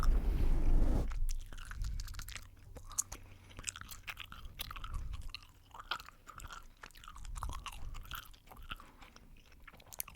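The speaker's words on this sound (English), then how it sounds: "I don't know who chews gum like this" Gum is chewed loudly right at the microphone, with wet smacking and clicking bites repeating in an irregular rhythm after a brief burst of rustling at the start.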